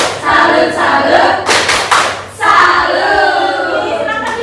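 A class of children clapping together in the rhythmic tepuk salut clap routine, loud and close, with sharp clap bursts and crowd voices chanting over a steady roomy background.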